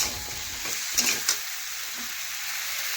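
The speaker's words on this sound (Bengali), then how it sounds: "আর সবজি একটু দেখুন এইভাবে ভেজে নেব।" Vegetables frying in a pan with turmeric, chili powder and salt, a soft steady sizzle with a few brief scrapes of stirring near the start, fairly quiet and without speech.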